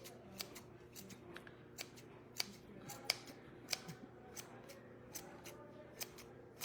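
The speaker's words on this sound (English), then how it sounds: "I'm gonna pull it forward and I'm gonna cut it this way" Scissors snip through yarn in a rhythm of short, crisp cuts, sometimes two or three close together, quiet and close against a low background hum.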